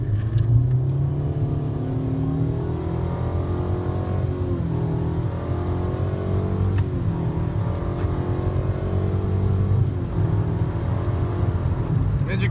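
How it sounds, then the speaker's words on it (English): A car engine revs hard and climbs through the gears, a loud steady roar with rising pitch sweeps and a brief dip at each shift. "I'm gonna floor it."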